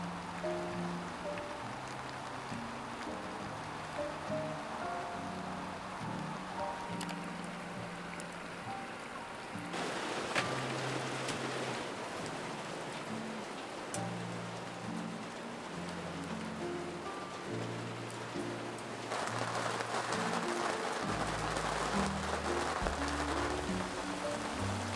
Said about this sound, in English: Alas, the sun and the solar didn't last long, and that storm that we heard about finally showed up.